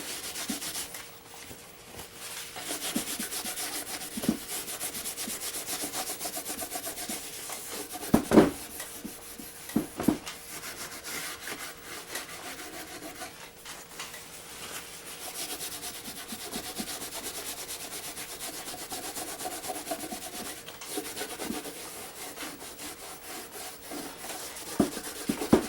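Paper towel rubbed lightly across a weathered Pola model building, a steady soft scratchy wiping that runs almost continuously at close range, with a few brief sharper knocks along the way and no talking.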